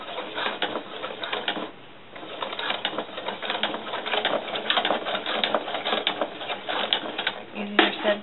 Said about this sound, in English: I'm going to try and stitch over the same line.